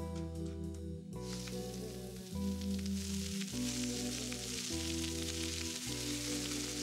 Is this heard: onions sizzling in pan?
yes